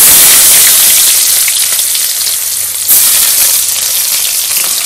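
Chopped onion hitting hot oil in a pan with panch phoron and dried chilies, a loud, dense hissing sizzle that settles slightly then surges again, close and continuous with no talk.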